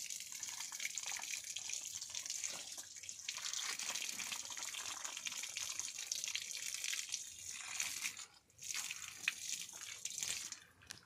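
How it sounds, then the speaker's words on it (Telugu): Water gushes from a pipe in a banana plantation, a steady close splashing flow that dips briefly before resuming, with no talking. "ఇదిగోండి నీళ్ళు"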